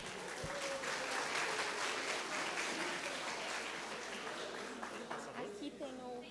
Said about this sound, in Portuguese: uma salva de palmas para a gente receber o Desan.